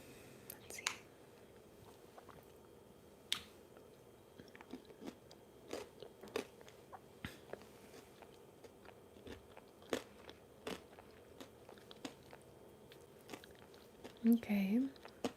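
Crunchy popcorn is chewed close to a microphone in a quiet room, giving soft, irregular crunches and bites over about fifteen seconds, with brief whispered speech near the end.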